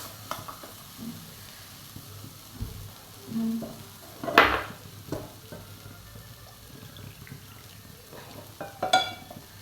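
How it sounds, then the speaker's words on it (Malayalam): Hot water is poured into a pan of sizzling egg roast masala with tomatoes: a quiet background sizzle and stirring clinks, then one sharp hissing surge midway, and a smaller hiss near the end. "ഇനി ഇതിലോട്ട് കുറച്ച് ചൂടുവെള്ളം ഒഴിച്ചു കൊടുക്കാം"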